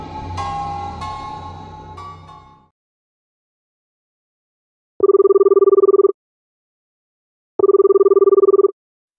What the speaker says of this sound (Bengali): এই নাও মা, রিং হচ্ছে